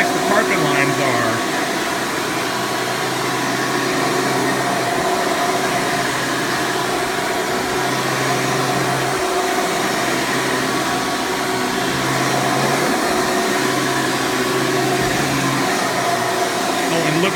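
A Hoover Preferred Elite U5093-940 upright vacuum with a brush roll runs over carpet, a loud, steady motor drone with a whooshing airflow hiss that holds constant throughout while a voice talks over it.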